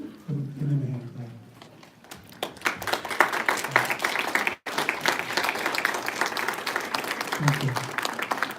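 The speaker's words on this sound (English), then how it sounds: "Give them a hand clap." People at a community meeting clap to honor family members standing in the room. A voice comes first, then applause swells into steady, dense clapping, with a brief dropout midway and voices underneath.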